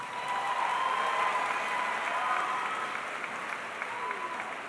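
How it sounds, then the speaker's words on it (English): A large audience at a 2018 Loy Norrix high school graduation gives sustained applause in a big hall, a steady wash of clapping that holds at even loudness and fades slightly at the end. "Please give them a big round of applause."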